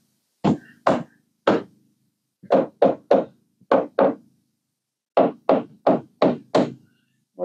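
Ball peen hammer knocking on wood during a 1970s RV renovation, striking in sharp, loud, close blows that fall in uneven clusters of two to five with short pauses between, no voices.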